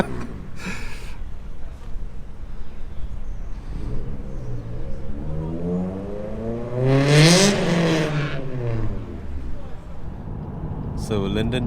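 A K24-swapped Honda FN2 Type R engine revs hard while driving, pitch climbing and falling through sweeps toward the limiter and missed gears, loud inside the cabin with brief talk at the start.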